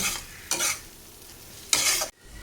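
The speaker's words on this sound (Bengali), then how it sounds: "মশলার সঙ্গেই কাজু কিশমিশটাকে ভালো করে একটু ভেজে নেব।" Cashews and raisins fry in a spice paste with onion as a utensil stirs the pan. Two or three scraping sweeps rise over a soft, steady sizzle, close up, with no voices.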